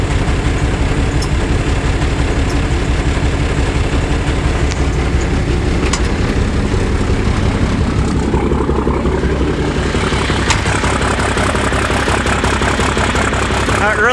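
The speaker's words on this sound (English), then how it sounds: "But it's running. Let this thing warm up a minute." A 1985 International tow truck engine idles steadily while warming up, a continuous low rumble heard close, with some rattling and faint background noise.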